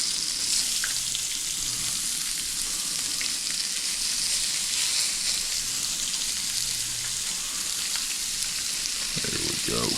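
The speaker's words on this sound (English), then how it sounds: "Bacon grease is rolling right now, so we're gonna go ahead and move our fish over here and give it a little drop in the pan. Instant sizzle" Fish frying in hot bacon grease in a pan, a loud, close, continuous sizzle and crackle that holds steady throughout.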